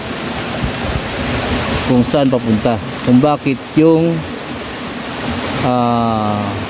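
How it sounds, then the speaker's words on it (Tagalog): River water rushes in a steady broadband wash near a waterfall, continuous throughout while someone speaks over it. "So susundin natin yung ilog na to"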